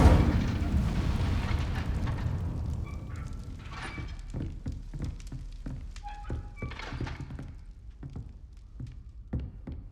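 The Incendio fire spell in the Hogwarts Legacy video game sets off a burst of fiery whooshes, then a run of punchy thuds and crackling impacts that fade over several seconds.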